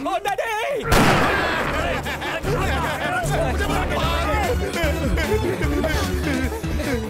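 A rapid burst of gunshots cracks out close and loud in a comedic scene, repeated sharp bangs running under excited overlapping voices and crowd chatter.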